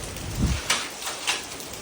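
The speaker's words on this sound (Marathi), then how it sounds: "बापरे जाम पाऊस आहे जाम बेकार" Rain falls in a steady wash, with a low rumble and a couple of sharper splashes rising briefly above it.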